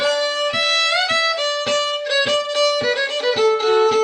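A fiddle plays a lively tune, bowed notes changing in quick rhythmic succession, clear and close with no talking.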